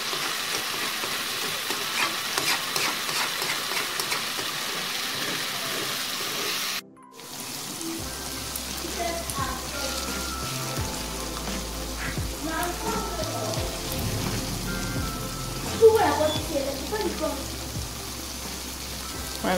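Grated coconut drying over a fire as its oil seeps out, a continuous crackling fry, then a brief cut and a lighter sputtering sizzle with low hum, ending in a louder pop.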